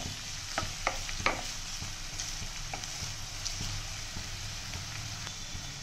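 Chopped onions fry in oil in a kadhai and are stirred, making a soft, low sizzle broken by several light scraping clacks of the spoon against the pan near the start, then gentler, sparser stirring.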